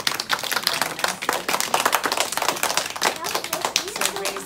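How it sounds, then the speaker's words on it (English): A kindergarten class in an American school claps for a classmate, loose uneven clapping from a small group of children, close and lively, with brief voices mixed in. "Okay, so we can give them some"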